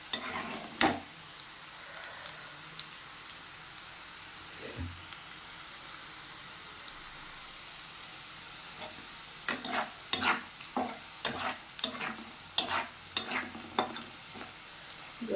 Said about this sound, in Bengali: পেঁয়াজটা একটু হালকা লাল লাল ভাজা হবে